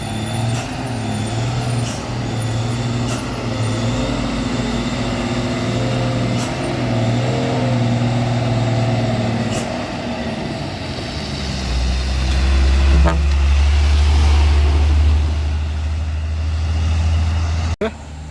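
A heavy trailer truck, a Supergreat, labours up a slippery incline, its deep engine drone steady and close, then swelling louder and lower as it strains harder near the end, with a brief sharp knock at the close.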